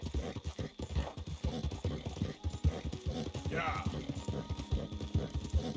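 Horse hooves in the open-world game Red Dead Redemption 2 beat in a steady galloping rhythm, close and continuous, while someone talks over them.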